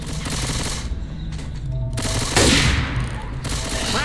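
Dense, continuous automatic gunfire in Left 4 Dead 2, a steady loud rattle of weapon fire close by, mixed with game noise and a sharper burst partway through.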